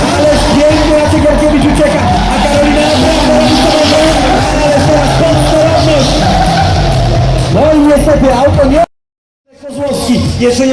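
A drift car slides through a roundabout at a Polish mountain drifting championship in Kłodzko, its loud tire squeal and engine roar sustained for several seconds with a crowd behind, then cutting out abruptly before resuming.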